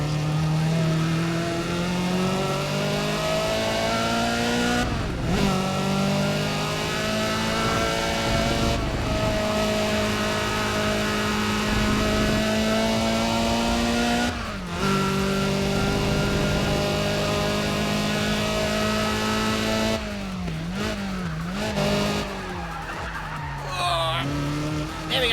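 Race car engine in Need for Speed ProStreet roars and climbs through revs in steady rising sweeps broken by gear shifts, with tire squeal and skidding near the end, loud and continuous with a voice talking over it at times.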